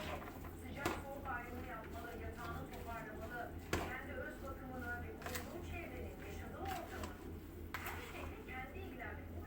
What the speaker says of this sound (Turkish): Buna azıcık da maydanoz doğrayacağım